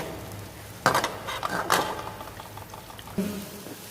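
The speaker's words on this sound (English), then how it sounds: "After the butter is melted, we will add the chopped garlic." Chopped garlic tips into melted butter in a pan for mushroom risotto, a few clattering knocks of utensil against metal giving way to a soft, close, steady sizzle with no voices.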